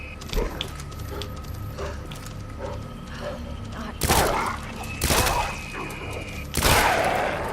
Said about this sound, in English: Strafe shooting.